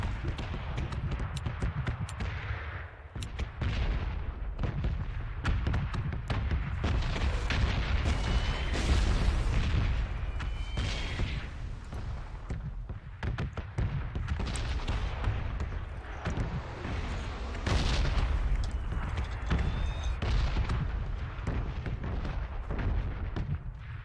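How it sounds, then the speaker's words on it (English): An artillery barrage in the PUBG video game pounds steadily for the whole stretch, heavy booms rolling one after another at a loud, sustained level with no talk. "as soon as the artillery passes"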